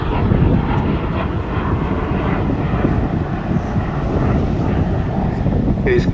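At the Newcastle air show an airplane flies by with a loud, continuous engine roar mixed with wind buffeting the microphone, and someone talks over the steady noise.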